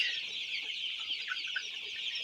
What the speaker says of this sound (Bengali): বেশি মুরগি একটা ঘরের ভিতরে মুরগিগুলো অতিরিক্ত হয়ে গেছে ঘন অতিরিক্ত ঘন হয়ে গেছে